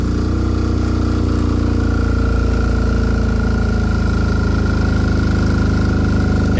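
An MEP 831A military generator engine fitted with an aftermarket governor controller runs after a six-hour load test, a loud, steady, close droning hum that holds evenly throughout without breaks.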